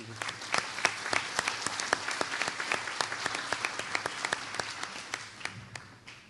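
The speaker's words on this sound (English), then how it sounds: "So round of applause for Beth." Audience applause at a chamber of commerce annual banquet, a moderate crowd clapping steadily with distinct individual claps standing out, continuous for about six seconds at close range.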